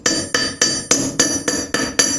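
A hammer strikes metal on a piece of railroad rail used as an anvil for straightening rough material in jewelry work, making eight loud, close, ringing blows at a steady even rhythm, with no voices.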